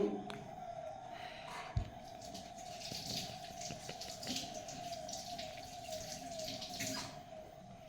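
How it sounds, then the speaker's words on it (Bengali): Tap water runs steadily as leaves are rinsed under a kitchen faucet, a soft continuous splashing with scattered drips and one sharp knock near the start, fairly faint and with no talking. "পাতাগুলো একেবারে ধুয়ে নিয়ে আসি"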